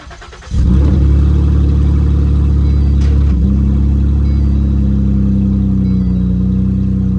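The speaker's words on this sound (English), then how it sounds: "The exhaust is super loud." A rebuilt car engine cranks and catches, then runs steadily with a loud, rumbling exhaust, close and continuous after the start.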